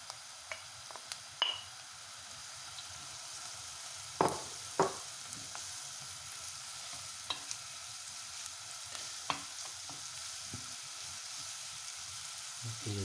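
Onions with added carrots fry softly in a pot for a fish soup, a faint continuous sizzle broken by scattered clicks and scrapes of a spoon stirring.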